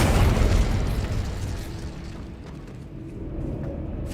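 An Incendio fire spell cast in Hogwarts Legacy bursts loudly at the start, then its fiery roar trails off into a softer rumble over a few seconds, with no talking.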